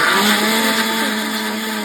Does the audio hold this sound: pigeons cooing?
no